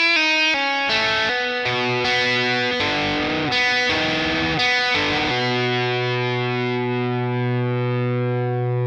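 Distorted electric guitar plays the second bar of a riff, a run of loud chugging notes over about five seconds before a final chord rings out and slowly fades, with no talk.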